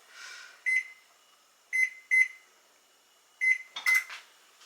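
Oven control panel beeping while the preheat is being set: five short, clear electronic beeps at an uneven pace, the first three well spaced and the last two close together, heard alone with faint rustling.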